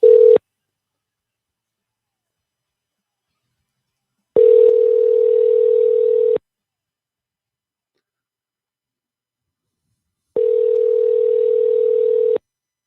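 Telephone ringback tone heard while calling someone, a steady low beep repeating in long bursts about every six seconds with silence between, loud and alone.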